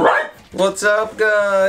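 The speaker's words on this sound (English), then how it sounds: "The dogs are here with me. Sorry for the noise." Dogs bark and yip briefly at close range indoors, followed by a man's loud greeting.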